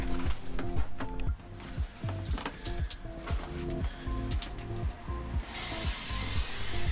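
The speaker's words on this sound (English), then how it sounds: "Here I go again, breaking out that spray glue" Spray adhesive hissing from a can onto foam insulation on the floor of a VW T25 van, in short bursts between rubbing and shuffling handling noises, close and fairly loud, ending in a longer sustained hiss.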